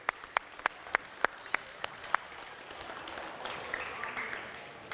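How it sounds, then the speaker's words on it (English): Crowd applause at the Ontario VEX IQ provincial robotics championship opens with several loud, evenly timed single claps, then swells into a dense, sustained wash of clapping from a large audience. "a round of applause for making it here"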